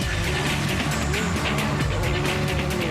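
Rally car engine flat out at full throttle on a Finland stage in the WRC 2005 video game, a loud continuous roar with gravel and tyre noise throughout.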